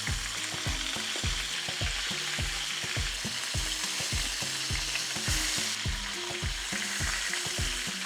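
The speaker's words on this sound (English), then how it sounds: "Got a nice sizzle going up from this oil." Loud, steady sizzling of chicken frying in hot oil, a continuous crackle with repeated low thuds and scrapes, no voices.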